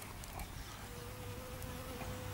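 Bees buzzing around clover flowers in a yard near fruit trees and vegetables, a faint steady hum with an occasional passing drone, no voices.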